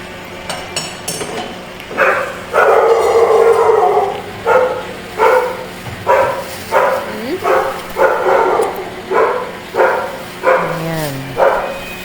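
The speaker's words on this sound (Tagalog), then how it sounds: "Ang ingay ng mga aso namin dito." Dogs bark repeatedly in a loose rhythm, fairly close and loud, with yips and a brief spoken word among them.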